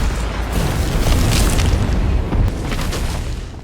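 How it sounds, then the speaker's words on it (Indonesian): A massive explosion as a Rathalos's throat blows up booms and roars, a loud rumbling blast that rolls on and slowly fades. "tenggorokan Rathalos pun meledak dengan sangat dahsyat"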